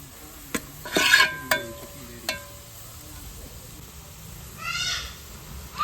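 Vegetable fried rice with soy sauce being stirred in a pan, a few sharp utensil scrapes and clinks early on over a faint low sizzle, then quieter stirring.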